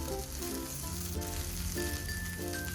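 Shallots frying in hot oil in a kuzhi paniyaram pan, giving a steady, loud, dense sizzle that carries evenly from start to finish with faint clinks underneath.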